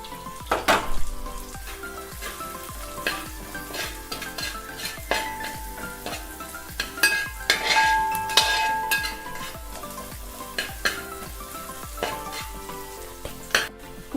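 Carrots are stir-fried for egg fried vermicelli, with a constant loud sizzle and busy, rhythmic spatula scraping and clinking against the pan throughout, close up.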